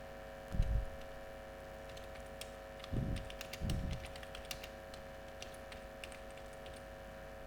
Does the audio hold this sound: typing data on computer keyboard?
yes